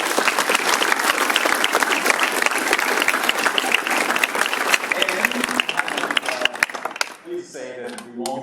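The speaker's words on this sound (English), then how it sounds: "I want to give a big round of applause for our panel" Loud, sustained audience applause for a panel at a real estate symposium, dense clapping filling the room for several seconds before fading as a voice begins speaking.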